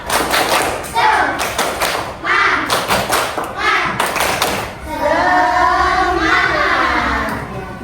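Schoolchildren in a third-grade classroom perform a rhythmic spirit clap, loud bursts of clapping and thumps in short patterned groups, followed by the children chanting and singing together.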